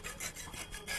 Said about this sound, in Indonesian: Nah, tinggal diamplas seperti ini.